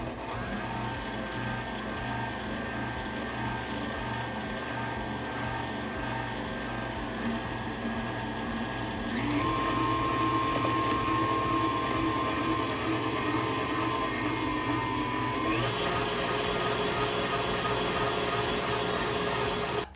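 An electric mixer whirs steadily, whipping a peanut butter cream pie filling with Oreos. The motor drones on and shifts pitch partway through as the speed changes.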